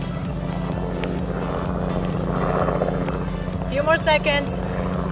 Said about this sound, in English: until the helicopter will pass